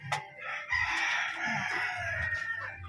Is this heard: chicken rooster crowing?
yes